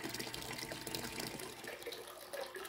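A small homemade water fountain splashes and trickles into a barrel beside a koi pond, a continuous soft gurgling stream heard close up and fairly quiet.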